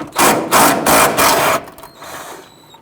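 A ratchet loosens a 10mm bolt on a 2000-2006 Toyota Tundra while the windshield washer reservoir is being removed. Four quick, close ratcheting bursts are followed by a softer mechanical tail, with no talking.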